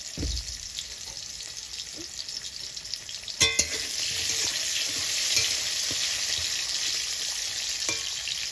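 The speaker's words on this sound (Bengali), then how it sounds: "এবার গাজরটাও আমি ভেজে নেবো ওই একইভাবে।" Steady sizzle of salted carrots frying in oil for shukto, a bright continuous hiss with a few clinks of utensils partway through.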